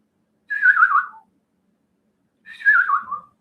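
A person whistles to imitate the call of the Chacao, a Chilean bird, in two separate clear descending whistled phrases with a silent gap between them, close and alone.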